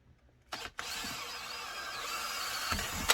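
A power drill starts after a short pause and runs in one steady, close, continuous whir for about two and a half seconds, ending with a brief clunk.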